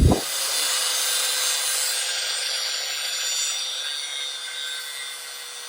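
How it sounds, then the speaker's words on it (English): Close, loud power-tool grinding of a screw head off a MinnKota trolling motor ramp, a steady harsh metallic whine that starts abruptly and holds for several seconds, slowly easing off toward the end. "So I'm going to grind the head of this screw off"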